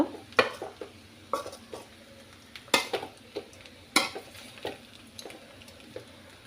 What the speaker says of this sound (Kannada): ಮೊದಲೇ ರೆಡಿ ಮಾಡಿ ಇಟ್ಕೊಂಡಿದ್ದ ರೈಸ್ ಹಾಕೊಳ್ತಿದ್ದೀನಿ ಮಿಕ್ಸ್ ಮಾಡ್ಕೊಳ್ಳುವ